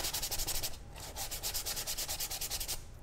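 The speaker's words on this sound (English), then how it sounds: "take our 220 grit sandpaper just to give it a nice smooth finish" Hand sanding of a repaired, chewed-up wooden windowsill with 220 grit sandpaper makes brisk, rhythmic back-and-forth scratching strokes, close and steady, with one brief pause between runs.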